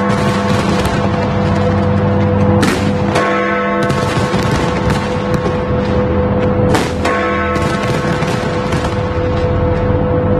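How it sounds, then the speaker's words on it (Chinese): Fireworks burst over Sydney Harbour Bridge and the Opera House on New Year's Eve, a dense, continuous barrage of loud crackling and booming with sharp bursts standing out, set against a steady roar of a large crowd. "喷出长达720秒钟10万发烟火"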